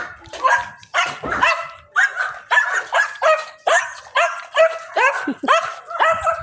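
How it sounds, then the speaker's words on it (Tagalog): A hyper dog barks loudly and close by, a rapid run of about a dozen sharp, evenly spaced barks with a few yelping edges, alone without talk. "yung aso na hyper"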